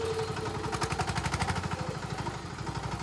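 A tractor engine runs steadily at close range, a low rhythmic diesel-like throb with clattering pulses and no talk.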